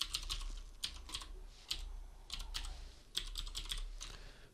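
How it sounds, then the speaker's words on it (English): Login credentials typed on a computer keyboard, clusters of quick crisp key clicks in irregular bursts with short pauses, close and alone over a faint low hum. "And then we type in your login credentials."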